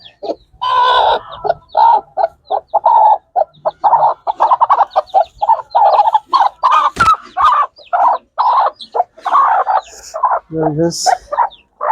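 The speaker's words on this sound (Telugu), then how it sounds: "కోడి అయితే ఇది అనమాట" Hen clucking close by in a rapid run of short, repeated calls lasting throughout, with a brief louder squawk near the end; no talking.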